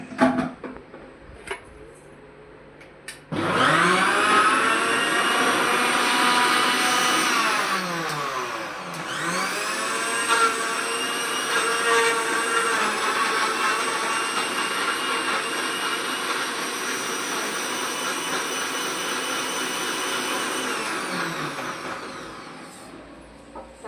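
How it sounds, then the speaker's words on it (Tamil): A mixer grinder blending fruit juice whirs loudly for about twenty seconds, pausing briefly midway before spinning up again, then winding down at the end. "அதுக்கப்புறம் மிக்ஸி ஜாரில் அரைச்சிக்கலாம்."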